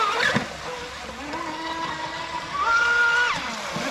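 An Oxidean Dominator RC speedboat's motor whines at high pitch, rising and falling as the craft speeds across a pond, steady and fairly close throughout.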